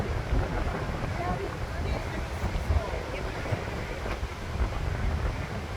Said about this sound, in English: I feel like the wind is pushing me.